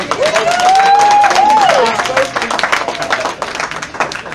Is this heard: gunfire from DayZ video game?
no